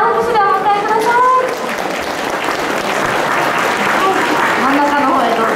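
Audience applause welcoming a kagura performer onto the stage at an underground plaza festival: full, steady clapping from a crowd, loud throughout, with a voice faintly heard at the start.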